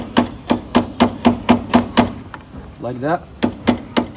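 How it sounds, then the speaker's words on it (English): A hammer strikes a chisel to open the lock on a car's axle nut during a control arm and ball joint job. Rapid, evenly spaced metallic blows ring out close and loud, about a dozen in all, briefly interrupted by a short spoken remark. "So the first thing to do here, we gotta loosen this axle nut. Right here, there's a lock that locks the nut. So we wanna open this up with a chisel."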